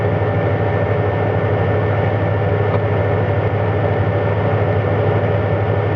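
A car engine idles steadily after a water pump replacement, a constant low hum with a droning tone and no revving, heard close and alone without talk.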